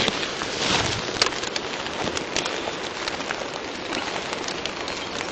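Steady rain patters outdoors around people on a walk near a stream, a dense continuous close hiss of drops with scattered louder taps, likely striking an umbrella, and no talking.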